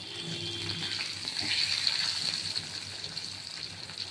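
Pomfret fish fries in hot oil, giving a loud, continuous hissing sizzle that swells and eases slightly over a few seconds, with no talk.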